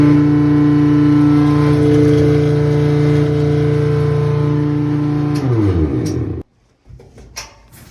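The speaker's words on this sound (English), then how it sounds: "my washer is making a loud grinding noise" A faulty washing machine makes a loud, steady grinding hum that winds down and cuts out near the end, followed by a few brief knocks in the quiet.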